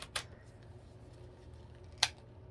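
Scissors snip through a tissue-paper shirt pattern, two crisp close cuts about two seconds apart over quiet background hum.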